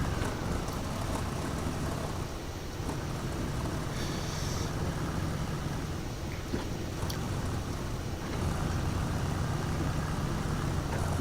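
Engine of the K3K7-286 truck driving toward a mud pit in SnowRunner, a steady, dense low rumble that continues unbroken from start to finish with no talk.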